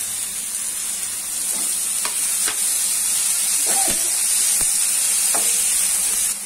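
Ginger garlic paste fries for a vegetable curry, a steady close sizzle and hiss from the pan with occasional light stirring clicks.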